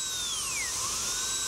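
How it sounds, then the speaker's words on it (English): A high-speed dental drill fitted with a tapered carbide burr whines steadily while cutting an index notch into the labial surface of a tooth, its pitch dipping briefly under load then recovering. "This we'll do with a tapered carbide burr. And we'll place it right in the labial surface here."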